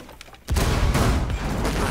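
A grenade blast in the tactical shooter Rainbow Six Siege erupts about half a second in, a loud, deep boom whose rumbling debris and ringing tail sustain heavily to the end after a quieter lead-in.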